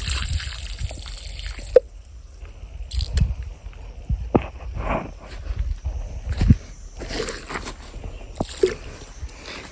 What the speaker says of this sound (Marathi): आधी ना आपण ना निंबाऱ्याला पाणी टाकू